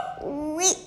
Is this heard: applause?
no